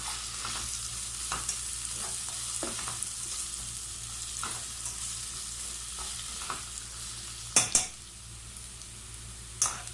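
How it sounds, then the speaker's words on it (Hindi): Onions frying to a light golden in a pan for beef tikka masala gravy, a steady close sizzle with occasional stirring scrapes and a couple of sharp utensil clinks. "प्याज फ्राई हो गया है, ज़्यादा फ्राई नहीं करना, बस ऐसे लाइट गोल्डन।"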